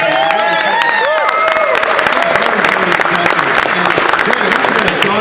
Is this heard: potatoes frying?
no